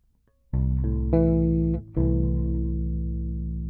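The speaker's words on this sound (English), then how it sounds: "That's the sound of the major 6 chord in that shape" A sustained major sixth chord on a bass guitar with a rich, slightly effected tone, struck once, re-struck, then a brief drop before ringing out again.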